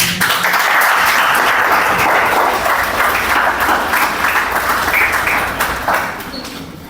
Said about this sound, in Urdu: آپ سب کی بھرپور تالیوں میں جناب میری مراد ہے زیارت علی غوری صاحب۔